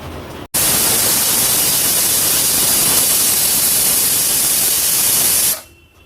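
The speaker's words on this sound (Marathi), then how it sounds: "आपण कुकरचं झाकण लावूया आणि जवळपास एक आठ ते दहा शिट्ट्या तरी काढून घेऊया" A pressure cooker with mutton inside vents steam in a loud, steady hiss that cuts in abruptly after a brief pause and runs for about five seconds before quickly dying away, with no voices.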